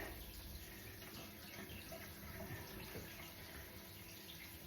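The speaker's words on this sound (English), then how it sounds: "I'll leave the shower running for a little while." A shower runs steadily while dogs covered in thistle seeds are being washed, giving a continuous close rush of spraying water with no voices.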